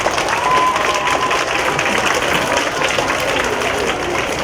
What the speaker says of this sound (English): can I have students give your teachers a big round of applause?